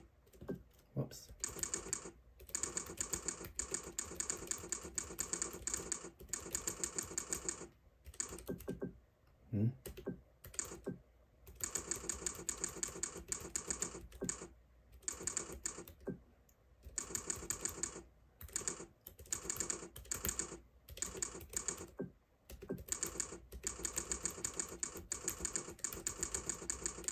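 Steady, rapid clicking of keys on a Keychron K3 keyboard during fast typing, continuous bursts with a few short pauses, close and clear.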